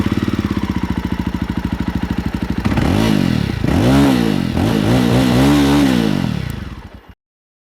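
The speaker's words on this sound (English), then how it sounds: "let's crank up the engine and check out that what this thing has really to" JAWA Perak bobber-style motorcycle engine cranks with a rapid starter chatter, then catches and runs loud and close, revving up and down in several rising and falling surges before cutting off abruptly.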